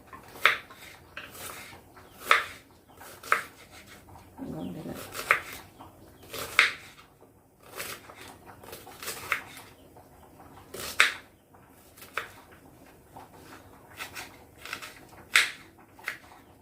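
A knife chopping an onion into medium pieces, a steady series of sharp, close taps on a board, roughly one per second, with faint kitchen clatter between cuts.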